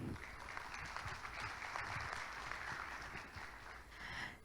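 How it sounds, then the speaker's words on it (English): Audience applause at the opening of an ASEAN energy sector event on biofuel, a fairly quiet, steady wash of clapping that holds evenly for several seconds. "may I have a big applause for us today?"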